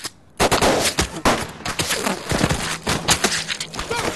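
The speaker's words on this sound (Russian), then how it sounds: "Кто стрелял?" Several sharp gunshot cracks go off in quick, irregular succession in a film scene, loud and close, with a brief quiet moment before the first shot.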